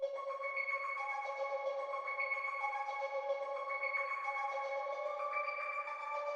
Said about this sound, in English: got this arpeg magic mod preset